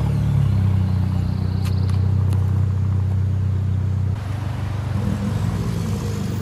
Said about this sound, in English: An alligator heard this car engine and wanted to compete.